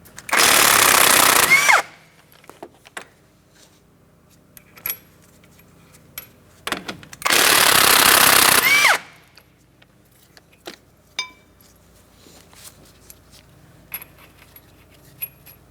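Two long bursts of rapid metallic hammering, each about a second and a half, tapping bolts out while replacing the front right CV axle on a 2004-2008 Pontiac Grand Prix 3.8L V6, separated by sparse light clinks and taps in a quiet space.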